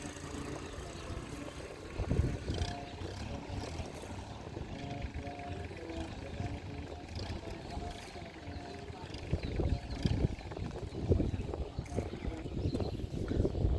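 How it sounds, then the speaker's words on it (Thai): A small local fishing boat engine rumbles steadily nearby at a harbor in Cha-am, Phetchaburi, in the evening, with a low, throbbing drone, while people talk faintly over it. "ลำนั้นติดเครื่องยนต์แล้วนะครับ"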